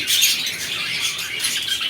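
A cluster of exotic pet birds for sale squawks and chirps continuously, shrill overlapping calls forming a dense, busy chatter.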